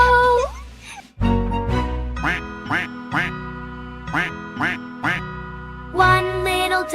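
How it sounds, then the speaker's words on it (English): Cartoon-style duck quacks ring out in a bright, rhythmic series over a children's nursery rhyme tune, each quack short and tonal, with a louder cluster at the end. "Mother duck quacked"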